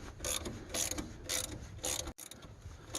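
A ratchet with a 3/4 socket clicking in quick bursts as it tightens a harmonic balancer puller on a Ford 302, close and crisp, with a brief pause between strokes and no speech.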